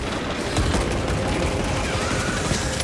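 Rapid, dense gunfire in Warhammer 40K Space Marine 2, a continuous loud barrage of overlapping shots with booming impacts throughout.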